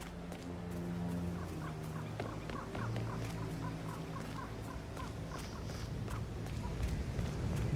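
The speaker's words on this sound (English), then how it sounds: "It's the birds. They're making a racket, droppings everywhere." A flock of birds making a racket in the game Hitman 3, a dense, continuous gobbling and squawking chorus with repeated rhythmic calls over a steady low background hum, fairly close and persistent throughout.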